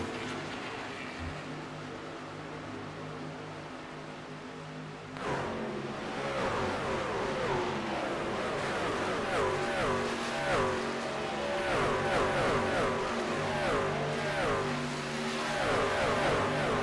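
Racing trucks lapping Atlanta Motor Speedway in the iRacing sim, a steady droning engine roar with rising and falling pitch sweeps as trucks pass and accelerate, continuous and fairly loud throughout.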